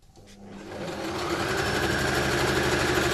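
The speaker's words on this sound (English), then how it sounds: "Shananis Norbasha fires up her trusty sewing machine" A household sewing machine in a family home starts up and settles into a fast, steady, close whirring hum that builds over the first second and runs on evenly, with no talking.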